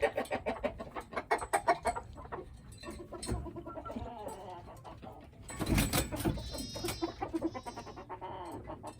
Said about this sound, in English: The chickens all come in and go to bed.